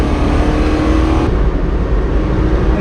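A car on a lap of the Nurburgring carries a loud, close engine drone that holds steady throughout, heard from inside the car.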